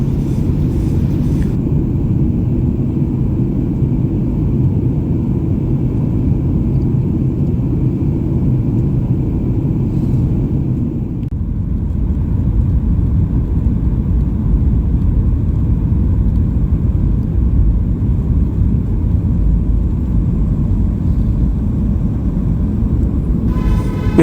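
Batik Air passenger jet on approach into Kuala Lumpur, a steady loud cabin rumble and engine roar that shifts in tone partway through as the aircraft descends to land.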